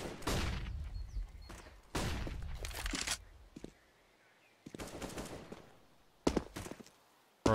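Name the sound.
AWP sniper rifle shot in Counter-Strike video game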